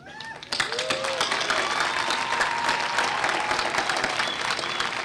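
Graduation ceremony audience breaks into loud, sustained applause after a brief quieter start with a voice, then keeps clapping densely and evenly to the end.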